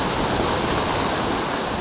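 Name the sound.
ocean surf waves on a Pensacola Florida beach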